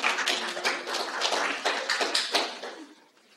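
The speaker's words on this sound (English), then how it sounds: "Can we have a round of applause?" A small audience at a transit talk gives a round of applause: steady, dense hand clapping at moderate distance that thins and fades out toward the end, with no talking.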